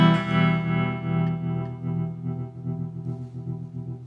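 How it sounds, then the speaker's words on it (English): Guitar through a Chase Bliss pedal with volume tremolo switched in, a sustained low chord pulsing steadily in loudness, washed with effects and slowly fading, no voices. "If I take the tremolo back in"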